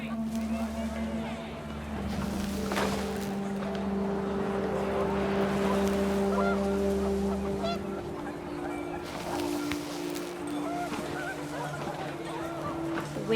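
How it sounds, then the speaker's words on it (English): Panicked geese honk loudly over blowing wind in the video game What Remains of Edith Finch, several overlapping calls rising and fading across a sustained low background drone. "The wind picked up, and panicked geese appeared and quickly went"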